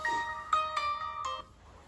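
A mobile phone ringtone of a call from a taxi driver, a few repeated bright tonal chimes in a steady rhythm, moderately loud in a quiet indoor setting, fading out at the end.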